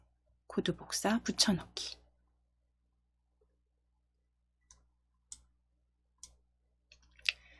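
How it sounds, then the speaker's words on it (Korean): Computer mouse button clicks while working in the Entry block-coding editor: a few sharp, isolated clicks spaced a second or so apart, heard after a brief stretch of talking. "오른쪽 버튼 클릭하셔서 코드 복사 붙여넣기"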